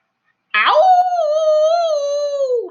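A human voice imitates a dog howling and wailing. It rises sharply, then holds one long, loud, wavering howl for about two seconds before tapering off, with silence before it.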